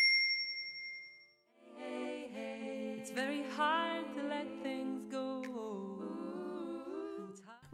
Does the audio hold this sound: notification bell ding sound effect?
yes